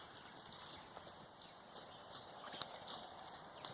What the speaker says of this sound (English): I got a horse that walked up to the camera, very close to the camera.